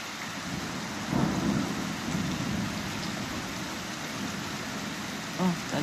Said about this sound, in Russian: О, такой гром.